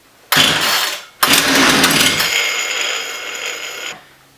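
A chainsaw found at a rubbish dump is pull-started with the choke out: two quick rasping cord pulls, then the engine catches and runs with a loud, buzzing drone for a few seconds before cutting out abruptly.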